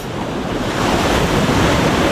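Loud, continuous surf on the beach at Baler, waves washing in with a rising roar, mixed with wind buffeting the microphone.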